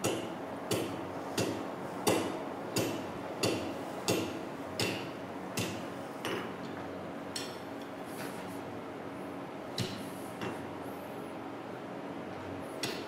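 A small hammer strikes heated metal on an anvil in an art ironwork forge, a quick series of sharp metallic taps in a loose steady rhythm that thins out and grows sparser toward the end.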